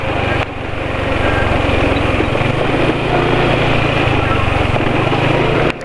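An engine running steadily after rain in cold weather, with the engine still cold, makes a continuous loud rumbling drone close by, unchanging throughout apart from a brief dip at the start.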